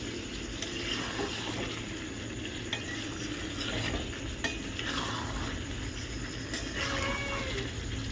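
Meat being stir-fried (kosha) in a pan, with a steady, moderately loud scraping and stirring texture under continuous faint sizzling, broken by occasional clinks of a utensil against the pan.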